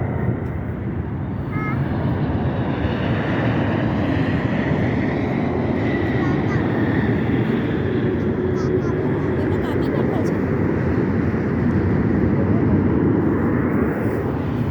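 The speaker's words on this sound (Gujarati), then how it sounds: "પ્લેન આવ્યું છે એ બાજુ જો તું." An airplane coming in to land at Las Vegas airport, heard as a steady, broad engine roar that holds throughout, with faint voices of onlookers near the start.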